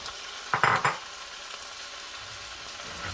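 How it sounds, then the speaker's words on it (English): Pad Thai noodles stir-fry in sauce in a hot pan, with a few quick scraping stirs early on over a gentle continuous sizzle, close up and without speech. "You should give this a cook for about a minute to a minute and a half."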